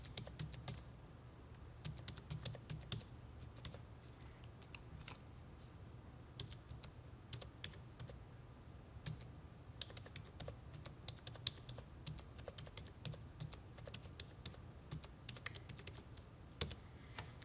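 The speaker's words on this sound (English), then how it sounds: "So I'm just going to type in the data that we had." Steady typing of data on a computer keyboard, a continuous patter of key clicks throughout with a low background hum, no voices.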